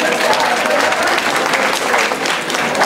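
Audience in a nightclub clapping loudly and continuously at an album presentation, a dense close burst of applause with crowd noise throughout.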